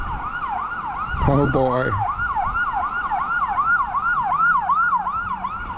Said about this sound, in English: I also hear an emergency vehicle coming